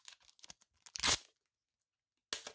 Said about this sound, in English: So I sleeve it up and I tape it within cardboard.